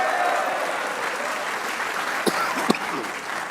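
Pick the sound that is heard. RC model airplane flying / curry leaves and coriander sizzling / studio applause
studio applause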